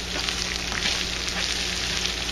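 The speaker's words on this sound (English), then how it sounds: "now I want you to throw in your green onion straws. Stir them in." Green onions hiss in a hot frying pan while being stirred in, a loud, steady, close sizzle with no voices over it.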